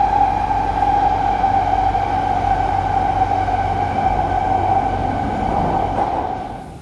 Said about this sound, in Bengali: এই তো ট্রেনে উঠে পড়েছি। ট্রেনটা পুরোপুরি ফাঁকা ছিল